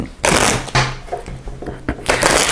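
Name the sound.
shuffling a deck of game cards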